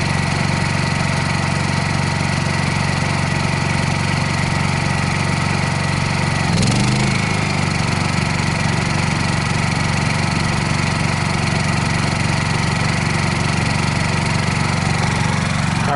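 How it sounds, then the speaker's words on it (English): A Honda 2200 generator runs close and loud with a constant droning engine hum, a brief surge partway through as the load changes, then settles back into steady running with no talk. "we're going to go ahead and start the generator now and run it until this thing's out of gas."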